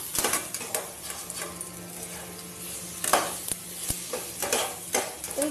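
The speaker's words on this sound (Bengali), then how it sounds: "আর এদিকে আমি লোটে মাছ চাপিয়ে দিয়েছি, লোটে মাছ এবার ভাজা ভাজা হওয়ার পালা।" Lote fish, Bombay duck, frying in oil in a wok over low flame, soft continuous sizzling broken by repeated metallic scrapes and clinks of a spatula stirring against the pan.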